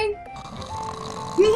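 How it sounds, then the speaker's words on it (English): Someone snoring while asleep in a hiding spot during a children's read-aloud story, a brief nasal rumble rising near the end against a background of other sounds. "I think he even fell asleep in his hiding spot because I hear him snoring"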